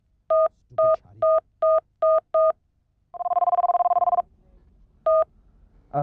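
A mobile phone number is keyed in with six quick, evenly spaced dial-pad beeps. A steady ringing tone follows, then one more beep near the end, all with no one talking.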